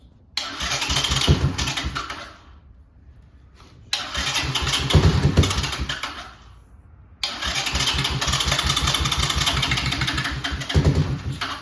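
A 1984 Honda TRX 200 ATV engine runs in three loud bursts of revving, each cutting off or dropping to a rough, quieter idle before roaring back, close to the recorder.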